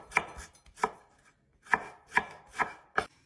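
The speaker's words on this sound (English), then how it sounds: "now the tomatoes. Okay, just chop up small." Tomatoes chopped small on a cutting board for a Tamil sambar rice, six crisp knife strikes at an uneven, unhurried pace, close and clear with no talking.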